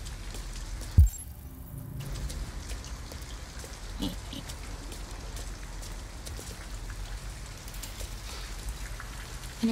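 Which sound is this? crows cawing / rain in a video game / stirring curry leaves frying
rain in a video game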